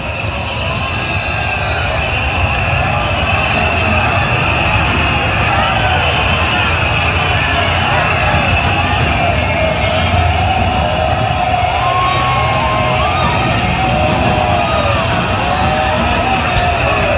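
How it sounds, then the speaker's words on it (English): A large crowd chants outside Parliament buildings, a dense, continuous roar of many voices heard from a distance, with sirens and yells mixed into the steady din. "They're chanting"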